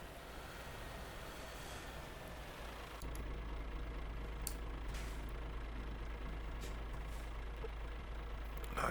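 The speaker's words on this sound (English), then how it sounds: "That car making a lot of noise." In Euro Truck Simulator on a Paris map, a car's engine drones and rumbles steadily, growing louder partway through, with a few faint clicks on top.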